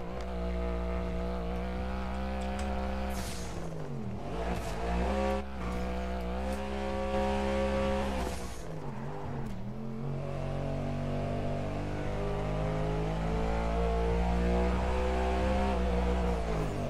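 A Euros car engine in a video game revs and accelerates, climbing through its gears with dips and surges as it shifts, a steady loud drone running throughout with no voices over it.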